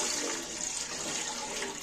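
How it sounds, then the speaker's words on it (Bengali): Water pours steadily into a cooking pot on a lit gas stove, filling it for rice in one continuous, close hissing rush. "গ্যাস জ্বেলে ডেকচি বসিয়ে ভাত হওয়ার মতো জল দিয়ে দিচ্ছি"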